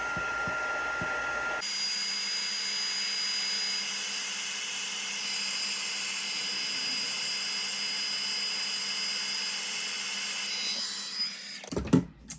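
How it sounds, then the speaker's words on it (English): An embossing heat tool blows hot air over embossing powder on a craft piece, giving a steady, close, loud whirring hiss for about ten seconds before it clicks and rattles off at the end. "so let's heat that up"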